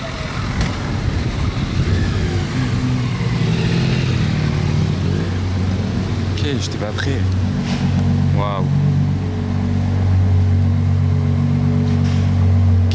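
Carlos Sainz's Ferrari Daytona SP3 accelerating through a turn, a deep engine note building into a loud, sustained roar at close range, with excited talk over it.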